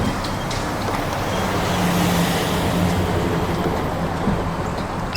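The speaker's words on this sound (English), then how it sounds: "Got some cars passing." Cars pass on a residential street in Indianapolis, a continuous broadband road rumble and tire roar that swells gently, heard outdoors at moderate distance without talking.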